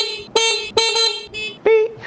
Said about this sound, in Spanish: Oigan, yo voy a sonar la bocina y ustedes van a escuchar lo otro.